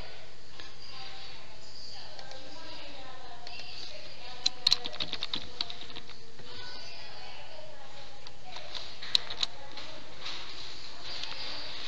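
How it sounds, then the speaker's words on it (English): Computer keyboard typing comes as sparse, quiet key clicks, with a few sharper taps standing out, beneath faint background sound and no clear talk. "I was typing."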